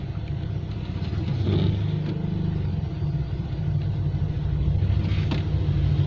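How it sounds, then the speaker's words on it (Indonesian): A steady, low tractor engine rumble runs throughout while working a field of hard soil, loud and continuous with slight fluctuations, like a heavy motor idling and working nearby. "ini traktor di ladang tanah keras"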